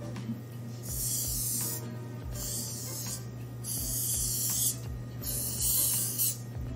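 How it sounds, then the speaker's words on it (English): Short hissing bursts of oil spray onto 9 cm pastry rings, about four close, loud puffs spaced roughly a second apart over a faint steady hum in a kitchen. "I'm gonna slightly spray some oil to make sure that we can release the ring easily later on."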